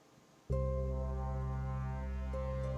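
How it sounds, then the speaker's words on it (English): A steady, droning siren-like tone from the video game Portal Stories: Mel kicks in abruptly and holds, low and continuous, with a slight pitch shift near the end. "It sounds like sirens."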